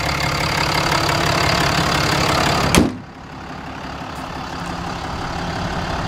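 A Dodge wrecker truck's 6.7 Cummins diesel engine idles steadily with a deep rumble, interrupted by a sharp clunk after which the idle continues at a lower level.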